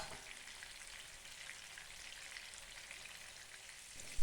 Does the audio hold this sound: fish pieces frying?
yes